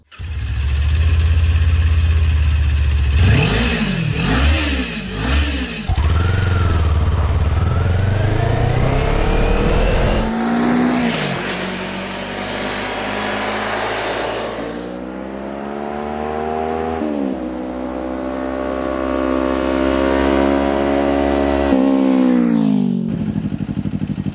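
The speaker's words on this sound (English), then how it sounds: "let's have a listen to what the 400 sounds like stock and with the slip-on exhaust" A stock Kawasaki Ninja 400 motorcycle engine idles and then revs several times in sharp bursts, pitch climbing and falling, loud and close with steady running between revs.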